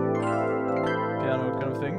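An 80s-style FM electric piano layer from Nord sounds holds a sustained, bright chord, clean and close, with no voice over it.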